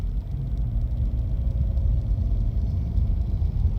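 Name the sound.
2018 Subaru Impreza with CVT accelerating under steady throttle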